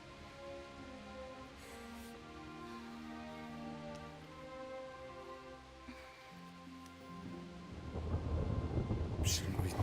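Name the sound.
thunderstorm with rain in the video game Kingdom Come: Deliverance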